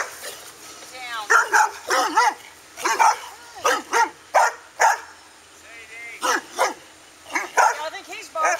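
An English Bulldog barks repeatedly in short, loud bursts close by, with someone talking intermittently between and over the barks.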